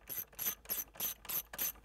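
A ratchet with a 10 mm socket works hex nuts off a Corvette console, a quick run of six or seven even clicking strokes, close and fairly quiet.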